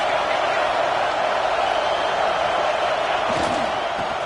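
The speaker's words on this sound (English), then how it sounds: "This crowd trying to make life miserable for this offense." A stadium crowd roars at a college football game against UCLA, a dense, sustained wall of cheering and noise at steady loudness, with a faint thump near the end.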